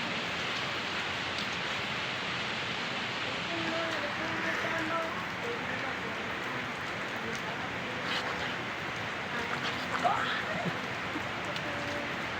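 Heavy rain pours down steadily as a dense, loud hiss, with people talking and laughing faintly underneath throughout.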